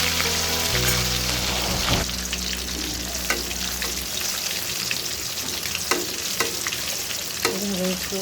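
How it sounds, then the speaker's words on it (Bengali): Fish fries in hot oil in a pan, giving a constant close-up sizzle with crackling pops and a few sharp clinks of a utensil; a low hum fades out partway through. "আমি মাছটা ফ্রাই করবো"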